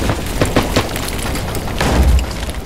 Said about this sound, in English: Careful, explosive out! Got explosives on there, everybody.